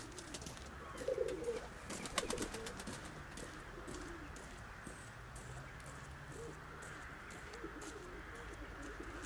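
A pigeon coos softly in low, rounded phrases, with faint chirps and background rustle around it. The cooing is quiet and somewhat distant, strongest in the first few seconds and continuing intermittently.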